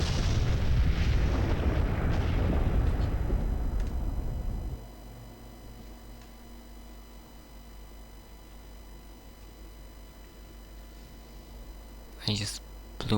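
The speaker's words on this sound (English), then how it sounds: "I just blew up a lot of planets. That was a cool effect." Imaginary implosion pulse blasts in the Honkai: Star Rail video game: a loud, dense rumbling roar of explosions fills the first few seconds, then cuts to a quiet hum with a couple of short bursts near the end.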